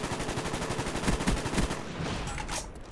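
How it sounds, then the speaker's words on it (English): Rapid automatic gunfire in the video game Black Ops II, a dense burst of close, loud shots with a few sharper cracks, tapering near the end with no talk. "Thank you for walking right into my gunfire"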